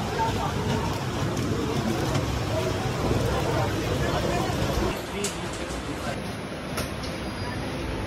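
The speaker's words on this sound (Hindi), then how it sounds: "फाइनली अभी हम ट्रेन में बैठ गए और अभी मतलब पुणे में, पुणे से ये मुंबई, पुणे मुंबई की एक्सप्रेस है" Inside a coach of the Pune-Mumbai express train, a continuous low rumble and rattle fills the space under murmuring passenger voices and nearby talk, with a slight drop in noise toward the end.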